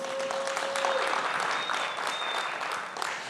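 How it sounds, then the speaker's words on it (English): Audience applause at a red carpet gala stage show, a steady dense wash of many hands clapping at moderate distance, filling the moment without any talk over it. "It's pause for applause."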